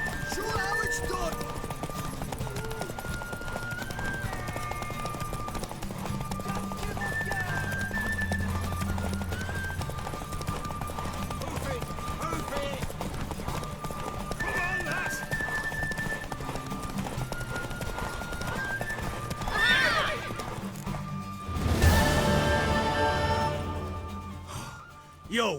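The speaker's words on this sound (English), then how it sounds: "Want that horse, don't ya?" Horses clip-clop and gallop steadily through a race in The Witcher 3, hoofbeats running continuously under game dialogue and music, with a neigh and a louder burst near the end.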